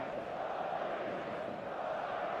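A stadium crowd in the football game eFootball 2026 Mobile roars before kick-off on match day, a steady wash of distant massed cheering and chanting with no distinct peaks.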